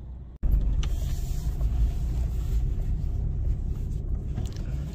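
A Maruti Suzuki Swift engine runs steadily with a low, dense rumble and road and wind noise, close and continuous after a brief cut near the start, with no talking.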